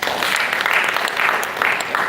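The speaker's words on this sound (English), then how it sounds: "please once again, a round of applause for her" An audience applauds at the close of a conference session, dense clapping holding steady through the brief moment with no talk over it.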